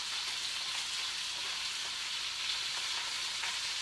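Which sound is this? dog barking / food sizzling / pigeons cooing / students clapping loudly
food sizzling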